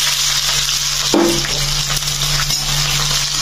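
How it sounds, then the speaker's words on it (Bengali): Chopped onion hits hot oil already holding bay leaf and whole garam masala, setting off a loud, continuous sizzle with a brief splashy burst as the onion lands. "এবার এর মধ্যে আমি কেটে রাখা পেঁয়াজটা দিয়ে দেবো।"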